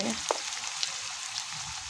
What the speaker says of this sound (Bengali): এই যে পেঁয়াজ মরিচ ভাজা হয়ে গেছে, একটু আদা রসুন দিলাম